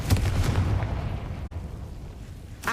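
A fire spell explodes in a video game, a loud, deep booming burst that rumbles and fades, then cuts off sharply before a second blast begins at the end.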